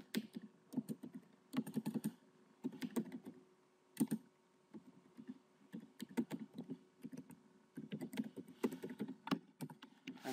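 Login details typed on a computer keyboard: quick bursts of close, crisp key clicks in uneven runs with short pauses between, no voices.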